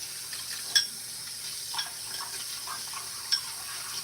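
A glass altar object is washed under warm running water, giving a soft continuous trickle with a few brief light clinks of glass, close and quiet.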